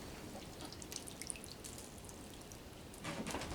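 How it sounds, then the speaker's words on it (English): Water poured over newly planted seeds in soil, a soft continuous trickle and splatter at close range that grows a little louder near the end. "Give these a little drink of water."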